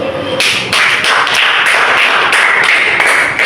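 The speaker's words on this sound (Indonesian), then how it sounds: "kita beri tepuk tangan dulu" A primary school class claps for a group about to present, loud and close, with rhythmic, somewhat unified bursts of claps over a few seconds.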